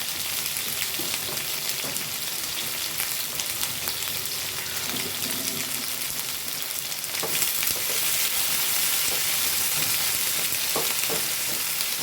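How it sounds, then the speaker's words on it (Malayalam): Ivy gourd sautés in hot oil with curry leaves, a loud, continuous close sizzle that swells partway through, with occasional stirring scrapes. "കരിവേപ്പില ഇട്ട് കൊടുത്തു പിന്നെ എണ്ണ ഇട്ട് കൊടുക്കുന്നു നല്ലോണം വഴറ്റി കൊടുക്കാം"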